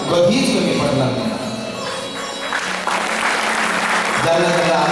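Audience applause at a Sai katha religious discourse, a few seconds of dense clapping from a seated crowd, mixed with a speaker's voice.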